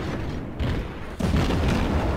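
Naval gunfire shell hits land on a warship in World of Warships, two heavy booming impacts with rumbling low end, the second louder, with no voices.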